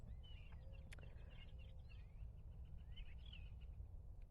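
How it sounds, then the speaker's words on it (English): Faint springtime birdsong with several short chirps and whistles against a low, steady rumble of background noise. "Sorry, listening to the birds."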